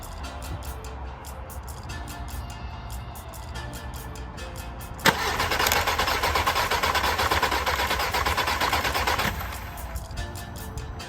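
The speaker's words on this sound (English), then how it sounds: "let's crank it over and see what happens" A VW Passat B6 engine cranks over with a steady rhythmic whirring from the starter, running about four seconds after a sharp click, between quieter ticking sections.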